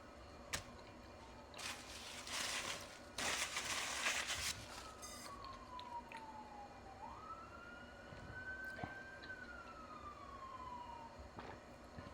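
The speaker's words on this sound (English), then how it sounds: "You hear the sirens now again, right?" City emergency sirens from a nearby fire station, a wailing tone sweeping up and down at moderate distance over faint room noise and a few brief clatters.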